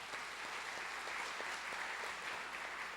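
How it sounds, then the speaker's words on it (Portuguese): Church congregation applauding, an even, continuous patter of many hands clapping at a distance, soft and uniform throughout without voices. "Pode aplaudir o Senhor."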